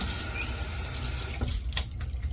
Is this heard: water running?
yes